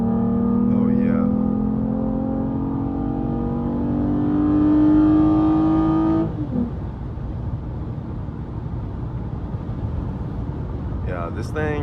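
A tuned Toyota Camry XSE V6 accelerates hard from a second-gear roll, its engine note climbing loudly for about six seconds before the pitch drops at a shift and the pull eases off into road noise.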